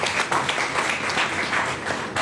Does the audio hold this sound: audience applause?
yes